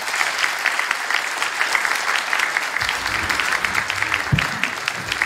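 Audience applause at a live speedrun charity event streamed in French, with steady dense clapping throughout and a few louder bursts near the end.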